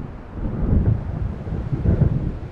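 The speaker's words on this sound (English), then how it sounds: "It seems there's a storm coming." Low, rolling rumble of thunder from an approaching storm over open water in the Alan Wake video game, a continuous dull roar that swells twice with wind noise mixed in, no voices.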